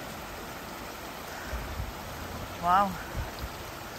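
A small river flows under the Cut River Bridge in Naubinway, Michigan, as a steady, soft rushing wash of water heard throughout, with a brief spoken exclamation over it.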